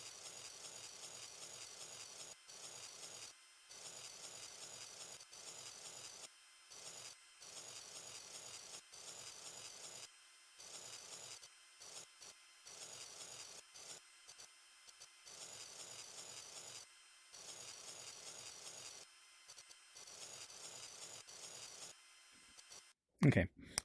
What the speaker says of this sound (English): Nail filing ASMR is the real therapy.